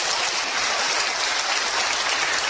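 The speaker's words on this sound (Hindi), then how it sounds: "ब्रिट वर्ल्ड वाइड के लिए आप जोरदार तालियां बजाइए" Dense, loud audience applause for a company in a large Hindi-language business seminar hall, a continuous rain-like roar of many hands clapping at once.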